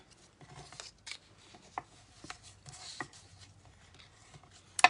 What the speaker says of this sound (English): Then we'll do some burnishing with our trusty bone folder.